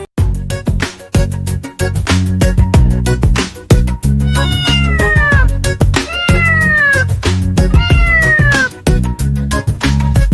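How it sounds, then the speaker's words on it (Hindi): A cat meows repeatedly in long, rising and falling calls over loud, rhythmic music with a steady beat throughout. "बिल्ली करती म्याऊ म्याऊ"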